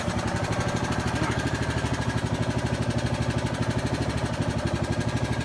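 A foundation pier lifting machine's engine runs with a steady, rapid pulsing chug, close and fairly loud, holding an even rhythm throughout with no one talking.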